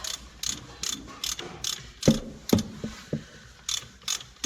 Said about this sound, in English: at least this bung comes undone easy